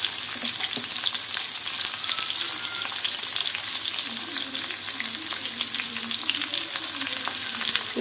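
Chopped onion dropped into a pan of potatoes already fried red, giving a steady, close crackling sizzle that runs unbroken with faint stirring scrapes throughout.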